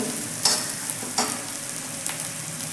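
A samosa filling with hot green chillies fries in oil with a soft continuous sizzle, broken by three quick scraping stirs of a spoon.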